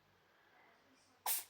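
A single sharp sneeze from a pet cat bursts out at the very end after near silence, brief and close.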